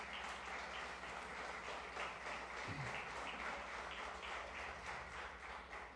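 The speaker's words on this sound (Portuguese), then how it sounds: "Vamos aplaudir o Senhor pela vida desses queridos." A church congregation claps during a worship service, a faint, steady spatter of many hands heard at a distance over a low electrical hum.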